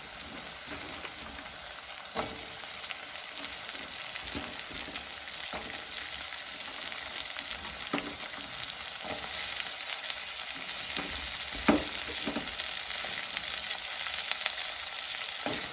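Onions sauté in a pan for varutharacha ulli theeyal curry, giving off a continuous, even sizzle with occasional clicks and scrapes from stirring, close by and with no talking.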